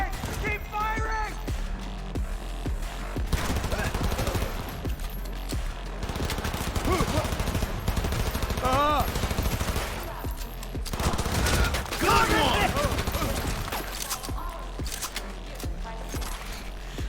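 Gunfire in the video game Cyberpunk 2077, with sustained bursts and rapid automatic fire running through the whole stretch, loud and dense, while people talk excitedly over the shooting.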